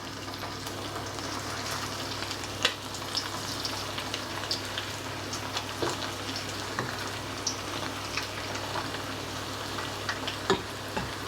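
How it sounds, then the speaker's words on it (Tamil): Marinated chicken pieces deep frying in hot oil, a steady dense sizzle and crackle with occasional pops, close and continuous throughout, no talking. "இப்போ நான் இந்த பிரட்டி வச்சுருந்த கோழி துண்டுகளை இதுக்குள்ளே போடுறேன்."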